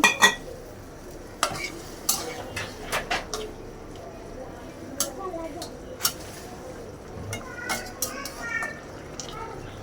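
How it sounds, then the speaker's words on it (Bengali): Curry being stir-fried and sautéed in a pan, with scattered scraping stirs and a soft sizzle running through, birds cooing faintly in the background and a voice speaking now and then. "আর একটু কষাই নিই"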